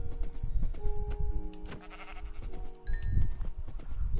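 Sheep in a blocky survival video game bleat several times in quick succession, close and clear over a steady layer of game background sound.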